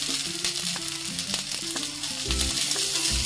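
Green chilies hit a pan of frying brinjal curry, producing a loud, continuous sizzle with stirring scrapes and clatters; no talking.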